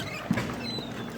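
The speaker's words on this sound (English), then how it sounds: "it's raining outside so hard right now." Heavy rain falls outside as a steady, dense patter that holds evenly throughout, with no voices over it.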